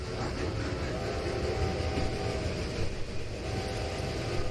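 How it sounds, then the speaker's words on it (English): Steam trains run in the Pacific coast scenario of the video game Railway Empire, giving off a loud, continuous rumbling and clattering rail noise that holds steady throughout with no talk. "These trains are fucking loud."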